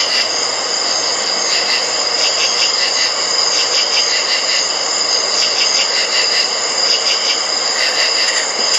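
Crickets chirp loudly and continuously at night in a small cemetery in West Virginia, a dense, pulsing high trill with no voices.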